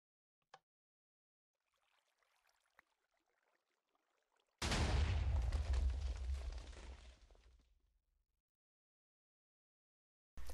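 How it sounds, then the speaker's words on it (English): A TNT cannon fires in Minecraft with a single loud, deep blast that rumbles and decays over about three seconds, after a few faint clicks and quiet rustling. "Let's see what happens when we fire it."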